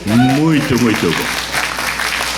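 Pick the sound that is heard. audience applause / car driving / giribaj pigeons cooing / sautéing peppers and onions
audience applause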